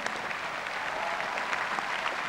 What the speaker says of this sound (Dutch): Applaus voor jullie allebei